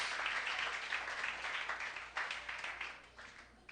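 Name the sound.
congregation applause in church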